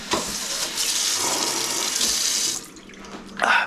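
Water gushes steadily from a tap for a few seconds, then cuts off, leaving a faint splash and a brief rush near the end.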